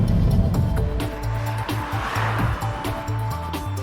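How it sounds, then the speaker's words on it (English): A Ford Focus hatchback thrown into a corner, its engine droning with a mild tyre scrub as it sweeps through the bend, moderately close and continuous. "it's great fun to throw into a corner"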